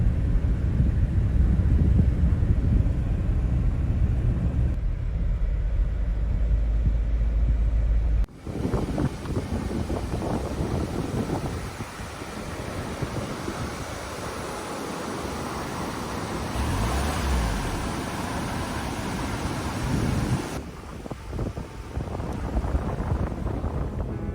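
A car driving along a road toward Austria, heard from inside with continuous loud rumbling road noise and wind buffeting, the tone shifting abruptly partway through as the recording changes, without any talk.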